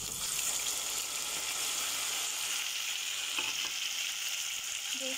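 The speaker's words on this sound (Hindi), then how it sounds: "तो अब टमाटर डाल देते हैं इसके अंदर।" Tomatoes frying with golden-brown onions, garlic and chicken in a pan, giving a steady, close sizzle throughout with faint stirring and no talk.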